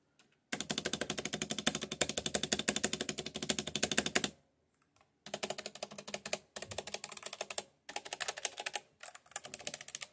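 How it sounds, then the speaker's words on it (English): A mechanical keyboard with PBT keycaps is typed on steadily and close up, dense clacking in three runs separated by short pauses, with no voices. "the surface that you have the keyboard on matters for the sound"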